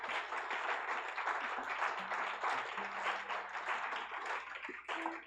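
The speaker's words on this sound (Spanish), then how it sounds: "Dele fuerte el aplauso al Señor." Church congregation applauding for the Lord during a Spanish-language service, a dense sustained roar of clapping hands filling the room, with a low steady musical tone underneath.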